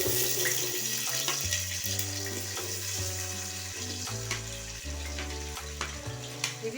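Onion and cardamom frying in hot oil for khichdi, a bright continuous sizzle and crackle close up under a loud tonal music bed, with no talking.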